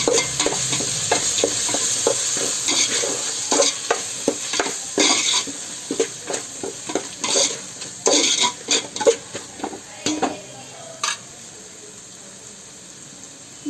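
Egg biryani masala with salt is stirred in a pan, a spoon scraping in quick irregular strokes over a steady close sizzle, with the clatter easing toward the end.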